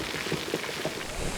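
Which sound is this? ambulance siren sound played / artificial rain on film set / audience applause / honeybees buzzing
artificial rain on film set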